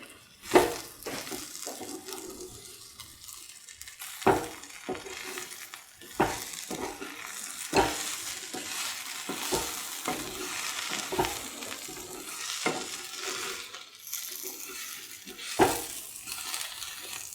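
A spoon stirs turmeric powder into an okra peanut stew mixture of ground peanut, fennel and coriander, giving repeated scraping knocks against the pan over a steady soft sizzle, with no voices.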